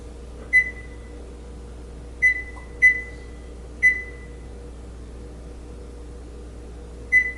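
A kitchen timer being set in a kitchen, five short clear electronic beeps at uneven intervals over a low steady background hum.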